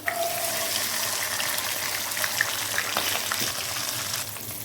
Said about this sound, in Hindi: लहसुन को और खड़े मसालों को भूनते हुए यहाँ पे मैं इसमें डाल रही हूँ मटर।